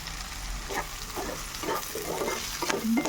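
Okra fry in a pan, sizzling steadily while a spatula stirs it in soft repeated scrapes, close and fairly quiet.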